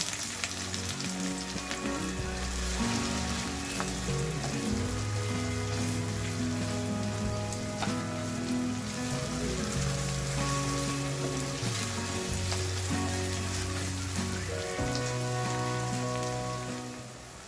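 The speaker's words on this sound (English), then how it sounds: "Add 4 medium-sized chopped onions and saute until they turn soft and light golden brown" Four medium chopped onions saute in a hot pan for chicken changezi, giving a steady, dense sizzle and crackle that runs the whole time under background music.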